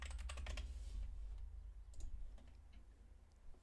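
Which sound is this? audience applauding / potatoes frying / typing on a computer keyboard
typing on a computer keyboard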